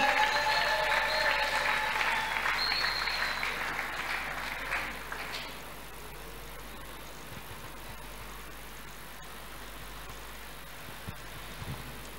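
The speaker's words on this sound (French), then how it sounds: "Nous acclamons." A church congregation at a pastors' consecration service claps loudly together with some tonal sound for about five seconds. The applause then thins to a quieter background murmur with scattered claps.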